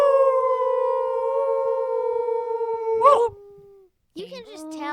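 Family members imitate wolves with long, sustained voiced howls that waver and fade, then break into short overlapping calls after a brief silence.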